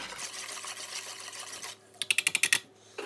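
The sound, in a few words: whisking bread pudding mixture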